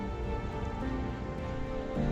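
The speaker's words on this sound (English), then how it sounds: "a light drizzle came and went, never turning into a downpour" Light monsoon drizzle in the Ananthagiri hills falls as a steady, soft patter of rain on surfaces, a continuous even hiss without thunder or voices.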